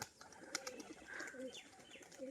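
Domestic pigeons, biscuit-coloured Rajshahi birds, coo softly in a few short, rounded calls, faint and close with light chirps around them.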